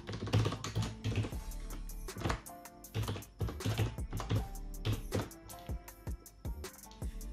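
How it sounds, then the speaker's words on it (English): Rapid typing of an IP address on a computer keyboard, with close, crisp key clicks in uneven bursts and brief pauses, no talking. "Type the IP address of our Synology NAS."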